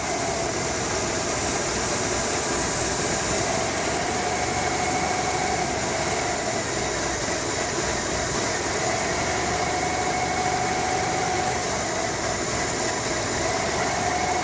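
A 1980-86 Ford F-Series pickup truck engine idles steadily, a continuous droning low rumble and faint whine, close by and unchanging, with no voices.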